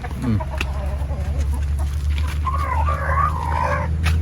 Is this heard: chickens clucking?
yes